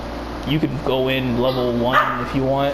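Several dogs bark and yip in short bursts close by, overlapping someone talking steadily about a game, with an air-conditioner hum underneath.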